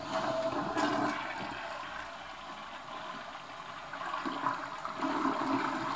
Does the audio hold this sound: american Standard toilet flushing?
yes